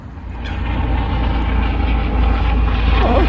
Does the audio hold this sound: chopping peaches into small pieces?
no